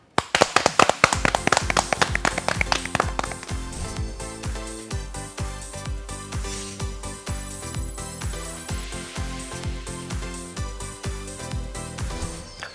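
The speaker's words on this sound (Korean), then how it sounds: "박수로 청해 드릴게요." A lecture audience breaks into sharp, scattered hand claps that quickly thicken into steady, close applause with a faint tonal ringing underneath, and no voices.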